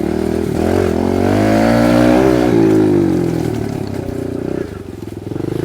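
A Kawasaki KLX 110R dirt bike engine revs loudly and close, its pitch climbing, holding, then easing off, with a steady mechanical drone throughout.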